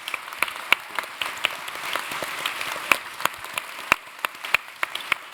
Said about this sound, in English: Can we give everybody a round of applause, please?